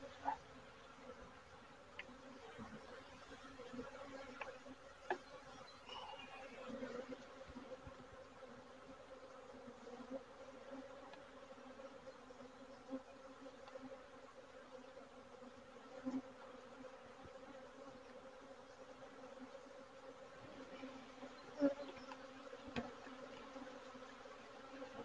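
Honeybees hum steadily around an open hive under inspection, a soft continuous buzz with occasional louder passes of single bees close by.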